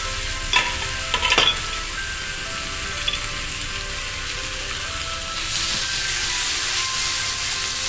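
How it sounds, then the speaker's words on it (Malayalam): Tender coconut is stirred into a frying masala for a tender coconut roast: a close, steady sizzle runs throughout, with a few scraping spoon taps early on and a brighter, louder hiss toward the end. No one speaks. "കരിക്കും കൂടി ചേർത്ത് മിക്സ് ചെയ്തിട്ട്"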